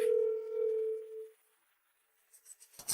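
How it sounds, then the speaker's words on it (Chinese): A telephone tone sounds during a call to a school: a steady, fairly loud single tone holds for just over a second, then cuts to silence before brief faint rustling noises. "给念念的学校打电话，问他在不在。"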